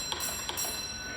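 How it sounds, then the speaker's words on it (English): A railway signal box bell sounds with two quick metallic strikes close together, leaving a steady bright ringing tone that hangs on underneath, with no talk. "call your attention with 1 beat on the bell"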